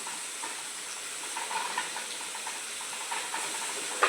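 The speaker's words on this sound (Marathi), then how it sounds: "चांगला तेलच आहे का परतू परतू घेते मी" Tomato, onion, ginger and garlic masala sautéing in oil in a home kitchen, giving a steady, soft sizzle and hiss with faint stirring scrapes throughout and a small clink near the end.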